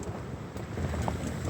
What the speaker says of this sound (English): Aaron, that was windy as